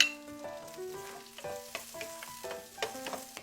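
Garlic and onion sautéing in a pan for a chayote dish, a close crackling sizzle with stirring scrapes and bright metallic ticks from a spatula, fairly quiet and steady.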